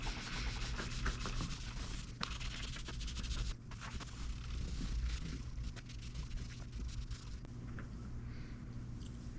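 A polishing machine buffs the frets of a Firefly FFST Super Strat guitar, giving a steady, close, soft rubbing whir that dips briefly and then carries on at an even level, with no speech.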